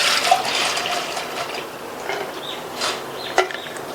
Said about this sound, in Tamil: இந்த பருப்பில் உள்ள தண்ணியை வடிகட்டிடலாம்.